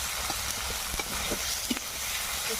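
Cumin paste hits hot oil with onion, ginger and garlic in a pan, a loud, steady close sizzle with scattered crackles and small pops, and no talking.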